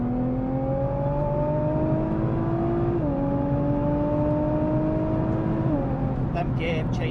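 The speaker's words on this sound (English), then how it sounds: "Them gear changes are fucking mega." A modified Nissan GTR accelerating hard, its engine note rising steadily and dropping abruptly at two quick gear changes, loud and close with a cabin roar underneath.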